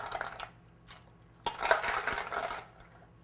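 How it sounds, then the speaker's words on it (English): Ice cubes tumble into a pot of hot apple cider brine and get stirred, giving a brief clatter and then a longer run of close, bright clinks and rattles. "Add some ice cubes and just give them a stir."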